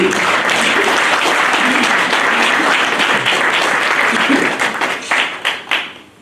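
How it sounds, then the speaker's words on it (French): A church congregation claps and cheers together in dense, loud applause that holds steady, then thins into scattered separate claps that fade out at the end. "On peut acclamer le Seigneur pour se réveiller"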